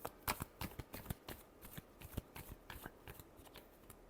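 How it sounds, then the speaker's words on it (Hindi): Tarot cards being shuffled by hand, a quick run of crisp riffling and flicking bursts close up with no voices. "Last shuffle."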